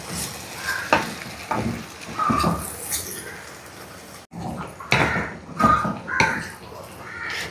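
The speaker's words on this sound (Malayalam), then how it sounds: "അതിലേക്ക് നമ്മളിതാ ചക്കിട്ട് കൊടുക്കാം." Chopped jackfruit is stirred in a hot pan with fried chillies, giving a crackling sizzle broken by repeated scraping strokes of a spatula, close and fairly loud, with a brief gap midway.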